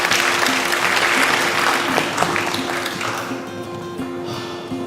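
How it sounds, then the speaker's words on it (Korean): Dense, close audience clapping fills a Korean citizen gardener ceremony, a steady wash of many hands that stays strong for about five seconds and thins slightly at the end. "여러분 큰 박수 좀 부탁드립니다"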